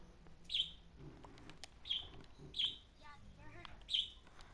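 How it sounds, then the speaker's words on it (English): A small bird gives four short, high squeaks at roughly regular intervals, with a quiet voice murmuring faintly between them. "The bird squeaks when it thinks I'm talking to myself."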